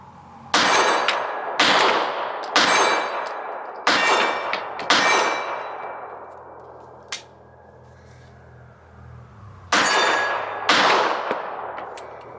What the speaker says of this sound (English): Again, shooting the 135 grain bullets, the ones that are fairly light